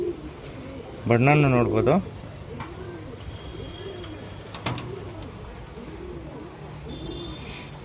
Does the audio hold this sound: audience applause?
no